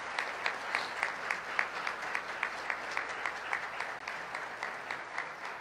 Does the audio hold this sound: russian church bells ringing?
no